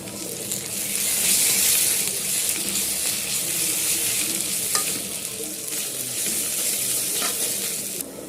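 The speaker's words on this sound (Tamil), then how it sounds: "வெங்காயம் மட்டும் போட்டு வெங்காயம் வதங்கிறதுக்காக கொஞ்சமாக உப்பு இஞ்சி பூண்டு போய் சேர்த்துக்கணும்" Onions sauté with salt, ginger and garlic in a pan, giving a loud, close sizzle with repeated stirring scrapes and a few sharp clinks of the utensil against the pan.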